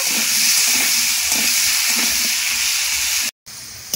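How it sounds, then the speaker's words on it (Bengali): Potatoes seasoned with salt and turmeric sizzle steadily in hot oil while being stirred, fried until reddish for a vegetarian jackfruit kalia. The sizzle is loud, close and continuous, with one brief silent gap near the end. "লবণ হলুদ দিয়ে আলুগুলো আমি লাল লাল করে ভেজে নেব।"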